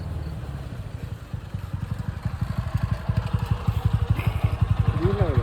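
A motorcycle idles close by with a steady, rapid thumping beat that grows slightly louder and stronger, with voices talking over the engine.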